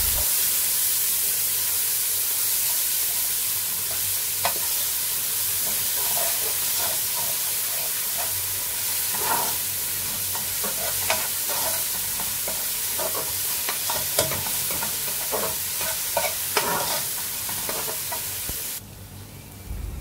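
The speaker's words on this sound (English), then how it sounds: "Ilagay ang minced onions, lutuhin hanggang maging tender ito at translucent ang appearance." Minced onions fry in a pan with a continuous loud sizzle, while a utensil scrapes and taps against the pan in repeated stirring strokes over a steady hiss.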